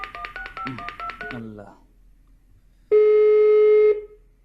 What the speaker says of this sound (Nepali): फोन त गरिहालौँ न